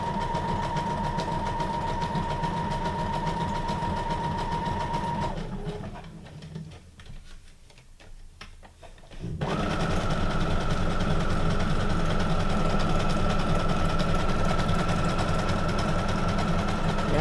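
A sewing machine stitches journal signatures in a steady, fast mechanical whir that drones on, falls quiet for a few seconds, then starts up again and runs at a steady pace.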